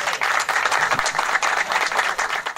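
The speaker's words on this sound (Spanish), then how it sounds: "Y pues recibámonos con un aplauso." Dense applause from a crowd at a Colombian music concert, continuous and fairly loud throughout the short stretch.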